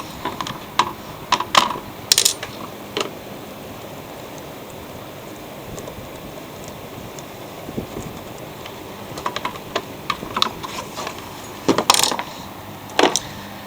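Phillips screws being removed from the engine shroud of a Troy-Bilt machine: scattered small metallic clicks and clinks of the screwdriver and loose screws, with bursts near the start and end over a quiet background.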